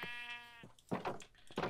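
Sheep in the Minecraft video game bleat in short, wavering calls, a drawn-out tonal bleat followed by two rougher bursts, fairly close and alone against faint game ambience.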